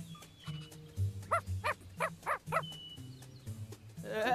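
A puppy gives a quick run of five high, yappy barks in the middle, with a low steady hum underneath.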